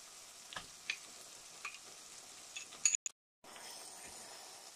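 Stuffed aubergine in tomato sauce with onion sizzles quietly in a pan, a soft steady frying hiss broken by a few light utensil clinks and a brief cut to silence near the end.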